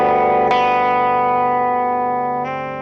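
Electric guitar run through effects plays a song's riff, a sustained ringing chord with a fresh attack near the start and another near the end, loud and alone with no talk.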